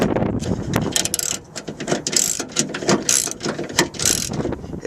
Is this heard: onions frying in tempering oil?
no